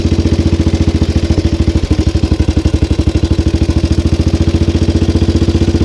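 A 1929 Terrot OS 247 cc single-cylinder motorcycle engine idles steadily with a fast, even thumping beat and mechanical clatter, loud and close.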